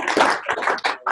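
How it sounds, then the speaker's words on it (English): Office colleagues clap for a coworker during a meeting, a short burst of close, uneven applause that swells and dips, with brief gaps between clusters of claps. "let's all give Jeanne a round of applause"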